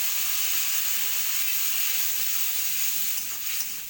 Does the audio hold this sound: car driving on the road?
no